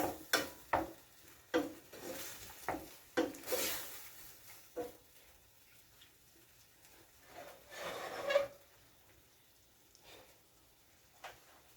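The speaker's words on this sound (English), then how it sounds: "So let's go ahead and stir." Spoon stirring a thick Jamaican curry conch stew in a pot, a run of soft scraping, sloshing strokes with brief louder clatters early on, then quieter movement and one more stir near the end.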